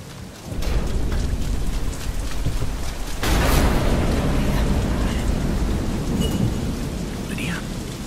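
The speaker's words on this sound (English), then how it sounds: "Storm." Heavy rainstorm with a deep thunder rumble in the video game Deadlight, steady loud rain hiss throughout, swelling as a thunderclap breaks midway and rolls on.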